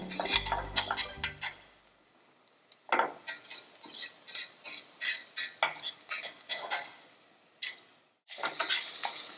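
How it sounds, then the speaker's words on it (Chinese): Mixed seafood, including chunks of fish, stir-fried briefly in a pan for curry seafood pasta: a loud sizzle with a quick run of rhythmic clanks and scrapes from the utensil, a short pause, then another burst of sizzling. "把这些海鲜加进来，略炒一下"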